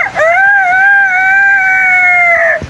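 A man outdoors in the village rain imitating a rooster crowing with his voice: one loud, long, sustained falsetto call held steady before dropping off abruptly, close to the listener.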